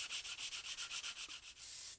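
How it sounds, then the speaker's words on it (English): Fine-grit 400 to 800 sandpaper rubs over the launch escape system tube of an Estes Little Joe II model rocket in a quick, even rhythm of about a dozen short strokes, then a steady scrub. It is quiet and close. "We can also sand the launch escape system tube as well"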